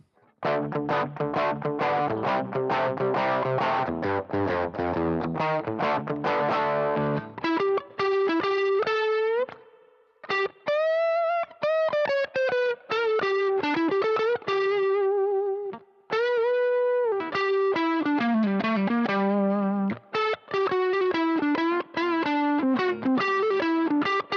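Electric guitar through a Boss ME-90 overdrive setting with boosted mid-range, playing a bluesy riff of chords and bends, slightly gritty, with brief pauses between phrases.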